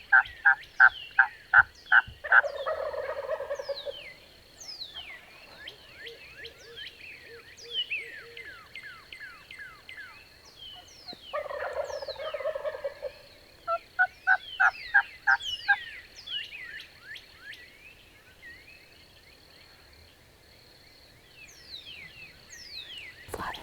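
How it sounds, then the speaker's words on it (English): Wild turkeys gobble from their roost in Texas woods, loud rolling gobbles coming in repeated bursts at close to middle distance, with chirping birds and insects filling the pauses between calls. "And look, the turkeys are right there."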